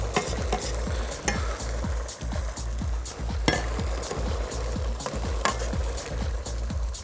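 Pancetta fries in a pan with a steady, close sizzle, while a utensil stirs and scrapes it in repeated irregular strokes that produce sharp clicks against the metal; no voices.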